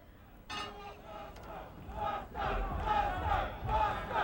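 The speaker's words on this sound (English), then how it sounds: "And the crowd is chanting Buster." Boxing arena crowd during the Tyson vs Douglas heavyweight fight, round 6, chanting in rising waves of many voices that swell and repeat, loud and dense throughout.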